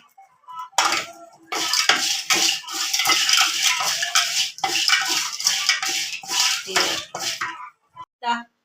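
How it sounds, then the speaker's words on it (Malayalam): Dried fish being dry-roasted without oil in an old pan gives a close, continuous scraping and rattling as it is stirred, with rhythmic metallic clatter throughout. A voice is briefly heard near the end. "വറുത്തെടുക്കണം എണ്ണ ഒഴിച്ചിട്ടല്ല അല്ലാതെ ചൂടത്തിട്ടിട്ടൊന്ന് വറുത്തെടുക്കണം"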